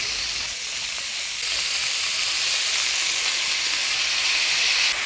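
Chopped squash tumbles into hot spiced oil with small shrimp in a Bengali village kitchen, setting off a loud, steady close-up sizzle that swells after a moment and runs on unbroken with no voices.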